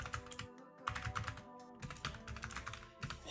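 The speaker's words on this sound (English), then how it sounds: "Holy typing." Rapid typing on a computer keyboard clatters steadily in quick bursts of keystrokes with brief pauses, close and fairly quiet, with no voices.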